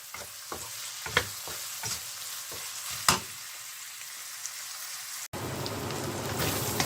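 Soya chunks sauté in a pan with a pinch of salt for beetroot pulao, giving a steady close-up frying hiss broken by sharp scraping stirs and clinks, ending in a denser, louder sizzle.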